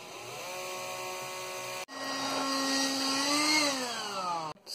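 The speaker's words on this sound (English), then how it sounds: "I'm going to drill them out and then put the screws in" A power drill bores hinge holes into IKEA Komplement wood, a steady whining motor drone with a brief break partway, then another long run that winds down near the end.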